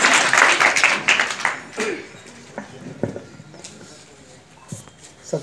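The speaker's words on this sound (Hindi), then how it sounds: "तालियां बजाकर इनका स्वागत करेंगे" A hall audience claps loudly for a guest at a student talent award ceremony in the Malwa region. The dense applause fills the first second or so, then thins to a few scattered claps and faint voices.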